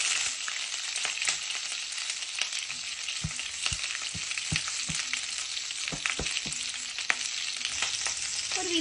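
Cauliflower fries in a pan with a steady, dense sizzle. Occasional low knocks of a utensil against the pan punctuate it, and no one speaks.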